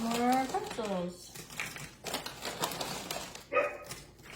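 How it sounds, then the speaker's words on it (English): A dog barks a few times in a kitchen, faint and somewhat distant, with some whining and kitchen crinkling around the barks. "Do you hear her barking? She's mad."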